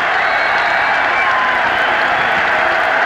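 Packed college basketball arena crowd, Indiana visiting Penn State in 1993, cheering and clapping in a sustained loud roar with occasional whistles rising above the din.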